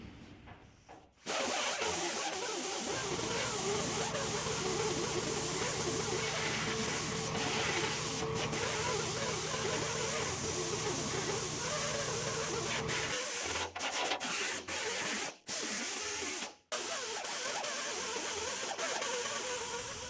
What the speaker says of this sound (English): I'm going to get out my grinder and prep this area, get all the primer off top and bottom